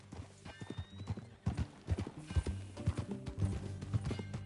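Rhythmic clip-clop of a video game horse's hooves at a steady walking pace, close and distinct, with occasional soft snorting.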